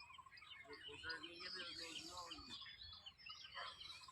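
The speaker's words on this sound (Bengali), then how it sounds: "পাখির আওয়াজ শোনা যাচ্ছে দূর থেকে।" Birds chirping and tweeting in a village, scattered overlapping calls at faint volume across the whole stretch, with some low background noise.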